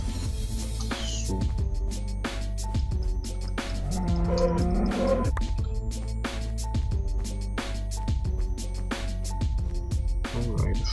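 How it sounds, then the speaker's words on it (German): A cow in the beta version of Minecraft lows a few times in the middle of steady, repeating background game music. "Da oben haben wir jetzt mal ganz schnell noch mal die Kuh."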